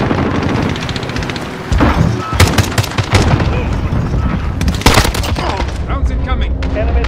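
An AN-94 rifle fires in a Modern Warfare shooter, with loud close bursts of rapid gunshots and distant booms over a constant battle din, as voices call out.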